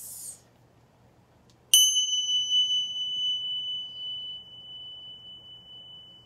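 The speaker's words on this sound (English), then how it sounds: "And to close our sacred space, three chimes." A single bright chime struck to close a sacred space at the end of a new moon card-pulling session, ringing out clearly and sustaining a long resonant tone that slowly fades over quiet room noise.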